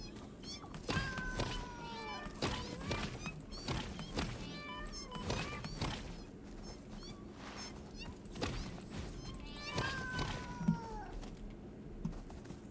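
Cats in the video game Satisfactory meow repeatedly and faintly with short rising cries, mixed with thumps and clicks of play.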